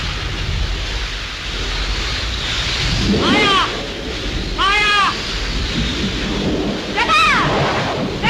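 A thunderstorm with heavy rain and gusting wind roars steadily, with booming thunder swells; a person calls out several times over the storm noise.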